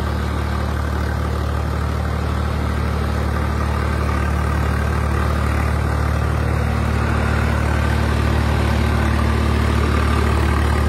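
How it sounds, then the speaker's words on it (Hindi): Swaraj 855 tractor engine running steadily with a 9-foot rotavator in soil under no load, a loud, close, continuous low drone with a constant idle-like rumble throughout, no voices. "बिल्कुल खाली चल रहा ट्रैक्टर"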